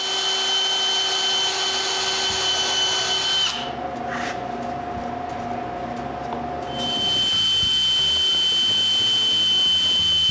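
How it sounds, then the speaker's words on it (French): A power drill bores screw holes in a homemade WiFi switch enclosure, whining loudly and steadily throughout, with its pitch and load shifting in the middle section as the bit works through the material. "Maintenant, je peux percer les trous pour les vis qui vont retenir l'arrière en place."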